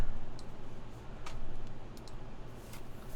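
Keystrokes on a Keycult 1/1800 mechanical keyboard clack in an irregular string of sharp clicks, fairly close over a low steady background rumble.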